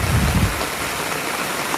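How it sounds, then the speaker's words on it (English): Steady rain falls on a mountain trail near Mount Ouray in Colorado, a dense, even hiss at moderate level throughout, with a brief low rumble at the very start and no voices. "You can't see rain in the video very well. It just looks like nothing. You can hear it, though."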